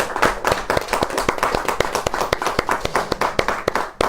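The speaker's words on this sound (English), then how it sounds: "we clap after every act" Audience clapping after a reading of a Srimad-Bhagavatam scripture chapter: steady, sharp hand claps in a fairly fast even rhythm from a small group, close and clear, with no talk.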